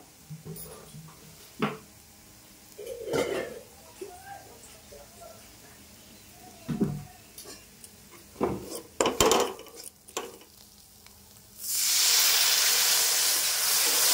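Water poured onto hot frying spice masala for a cabbage bharta, bursting into a loud, close sizzling hiss near the end after quieter clinks and stirring sounds.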